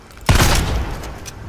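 A single heavy blast from the thunder shotgun in Fortnite, a close booming report with a short decaying tail, no talking.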